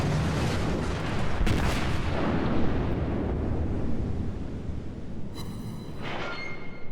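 Heavy naval guns boom in World of Warships, a deep rumbling roar that rolls on and slowly fades, followed by sharper crackling impacts near the end. There is no talking.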